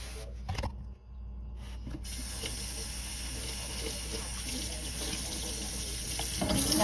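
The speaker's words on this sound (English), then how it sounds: "Now I'm gonna go ahead and rinse." Tap water runs steadily into a stainless steel sink during rinsing, a continuous broadband splashing rush that follows a brief lull and swells slightly toward the end, with no talking.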